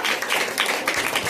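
An audience at a Pongal debate event claps to welcome a media guest, a brief, dense burst of steady applause from many hands.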